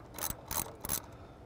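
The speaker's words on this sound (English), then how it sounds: "we're going to back off all the nuts" A wrench ratchets in three quick clicking bursts while backing off the strut tower nuts on a 2010 Dodge Challenger, close up and fairly quiet, with no one talking.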